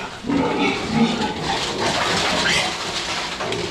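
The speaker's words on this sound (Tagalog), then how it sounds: "Nagugulat ang mga baboy." Startled pigs on a small farm pen make busy, overlapping squeals and grunts over a continuous noisy background, fairly loud and close throughout with no clear talk.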